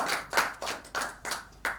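A classroom claps for a student's answer in a few short, rhythmic bursts of hand claps, close and moderately loud, each burst separated by brief gaps, with no voices over it.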